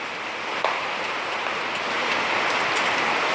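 Steady rain pours down outdoors, a dense even hiss of drops with a few sharper patters on a surface, continuous and fairly loud with no voices.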